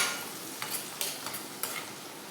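Onions and turmeric frying in hot oil for a sorrel-leaf chicken curry, a dense, steady sizzle with several light spoon taps and stirring scrapes at irregular intervals.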